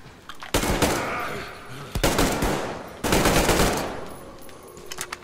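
Gunfire in Metro: Exodus comes in three loud bursts of rapid automatic shots, each fading into echoing decay.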